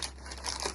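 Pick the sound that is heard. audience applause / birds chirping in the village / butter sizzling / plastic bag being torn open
plastic bag being torn open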